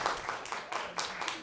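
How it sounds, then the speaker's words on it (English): Audience applause in a school board meeting room, a steady wash of many hands clapping at moderate volume with faint voices mixed in. "folks, appreciate your applause"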